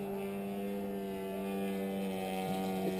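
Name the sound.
engine running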